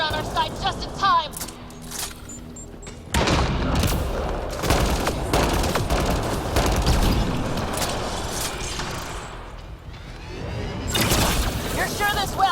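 Turret gunfire in the Mass Effect: Andromeda game bursts in rapid, crackling volleys amid mechanical clanks and booms, loud and continuous beneath raised voices.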